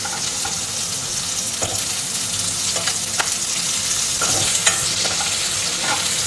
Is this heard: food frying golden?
yes